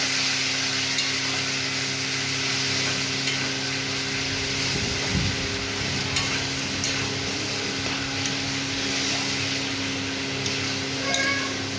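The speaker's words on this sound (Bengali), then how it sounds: "মশলা কষানো হয়ে গেছে, এবার কিন্তু মা জলটা দিয়ে দিল।" Water poured into a pan of fried spice paste for an egg curry, a constant low bubbling hiss with a faint steady hum beneath it and one brief louder swirl midway, no one talking.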